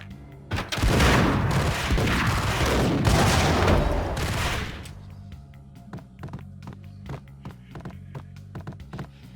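A grenade blast roars loudly in a shooter game, a dense sustained boom for several seconds, followed by a string of sharp separate gunshots at irregular intervals as the noise dies away.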